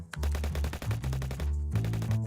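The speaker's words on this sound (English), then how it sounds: "so if I need more gunshots, I can simply expand the file" Rapid automatic gunfire sound effects play back in a Nuendo editing session, a dense rattling burst of shots that pauses briefly and then resumes, loud and close.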